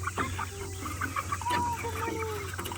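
Several chickens cluck and murmur close by in a busy, overlapping chorus, with short squawks over a steady low background hum.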